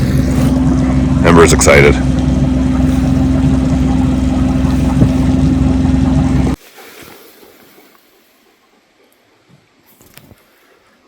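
A boat motor warms up, a loud steady engine drone with a constant low hum under brief speech that cuts off abruptly, leaving only faint quiet background afterward.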